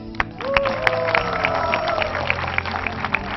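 A quiz show contestant claps for himself in a studio, a short run of sharp, evenly spaced hand claps over a low hum of room noise.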